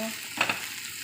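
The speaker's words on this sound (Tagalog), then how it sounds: "Lagyan lang natin ng konting sabaw" Broth splashing into sautéing lentils and eggplant in a pan, a brief close whoosh of sizzling and stirring against a low steady frying hiss.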